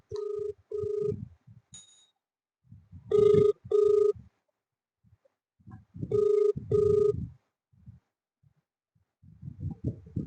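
A telephone rings in two-tone electronic bursts, three separate rings spaced a few seconds apart, with a voice talking quietly between them.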